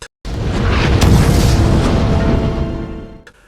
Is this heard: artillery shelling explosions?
yes